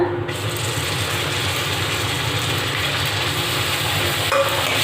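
Fried chilies and ginger paste are stirred in a pan of hot oil, a close, continuous sizzle broken by scraping, clicking stirs, with no voices.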